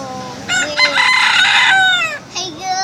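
A bantam rooster crows once, loud and close: a long, bright, strained call, then a short trailing note at the end. Nobody speaks.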